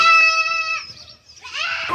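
A goat bleats loudly and close by in a wavering, nasal call that breaks off and then resumes on a rising, rougher note, heard alone without talk.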